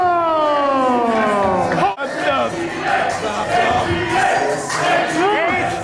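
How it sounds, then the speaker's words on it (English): Loud wrestling crowd roaring and cheering in an arena, dense and sustained, with rising siren-like wails and shouts mixed in throughout. "HGH getting a huge ovation from this crowd."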